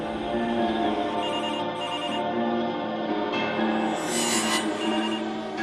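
A telephone rings steadily in repeating electronic bursts, loud and continuous throughout, with no talking.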